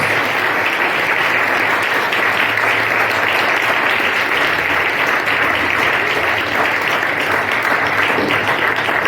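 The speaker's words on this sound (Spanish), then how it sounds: "le damos un fuerte aplauso al Señor y al siervo de Dios" Dense, steady applause fills a church during a Spanish-language service, with many hands clapping continuously and loudly for about nine seconds and no voices over it.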